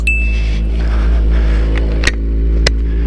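A 2014 Kawasaki ZX-14R motorcycle engine idles in a steady, loud drone, with a couple of sharp clicks or knocks near the end.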